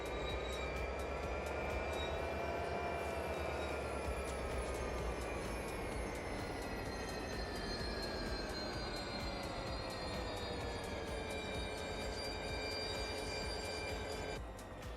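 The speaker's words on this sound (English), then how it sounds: "I'm going to try and reverse here and see if we can connect these carriages." A diesel train engine in DayZ drones loudly and steadily as the train reverses to couple carriages, its tone rising and sliding in pitch with the throttle.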